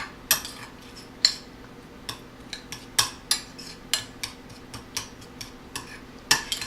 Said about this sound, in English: I'm going to use a tablespoon now and go over with my mixture